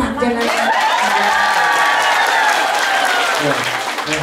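An audience at an Islamic religious lecture breaks into loud, close applause with scattered cheers and laughter, while a voice keeps talking over the clapping.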